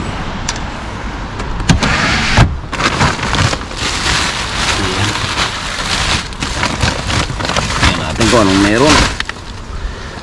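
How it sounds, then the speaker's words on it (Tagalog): Heavy rain drumming steadily on a car during days of downpour, a dense close patter with scattered louder knocks, under intermittent talk. "Malakas ang ulan."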